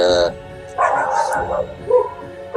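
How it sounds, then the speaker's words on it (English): Dogs bark outside a house, a few yapping, whining barks at close-to-mid distance in quick irregular bursts, with no talk. "annoying dogs outside of my house. Always disturbing"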